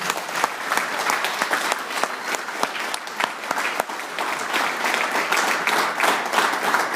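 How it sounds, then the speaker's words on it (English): Sustained applause from a crowd at a high school girls' basketball banquet, steady dense clapping filling the room for several seconds with no talk over it. "round of applause for the entire program"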